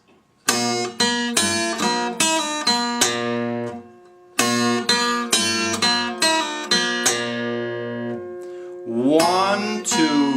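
An acoustic guitar plays the eight-note phrase from a blues tune, slowly and clearly, with distinct plucked notes that ring and decay. The phrase is played twice with a short pause between, and a strummed chord comes at the end.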